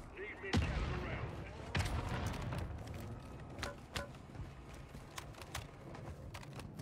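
Gunfire in a video game: a string of sharp, loud shots at irregular intervals, some close together, over a steady background rumble, with a voice faintly present.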